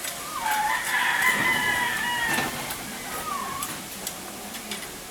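A rooster crows loudly nearby while other chickens are chased and cluck around it, with faint voices and farmyard noise in the background.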